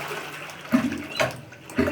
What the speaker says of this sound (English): I'm just gonna drain this closet here, the water closet, so it gets empty.